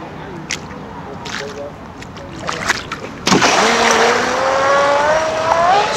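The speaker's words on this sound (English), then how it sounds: "Max getting ready to run his FE30." An FE30 P-spec race engine starts up and runs, beginning as quiet background noise with faint voices before a sudden loud burst into a steady, rising engine tone that holds near and strong to the end.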